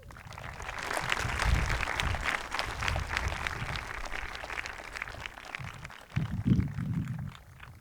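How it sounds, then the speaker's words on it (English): A crowd at a high school graduation ceremony applauds steadily, a dense patter of clapping that holds for several seconds, with a brief low thump near the end. "let's have a round of applause for your parents"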